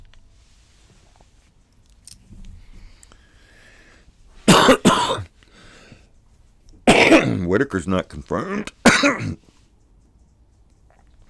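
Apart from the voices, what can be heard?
cough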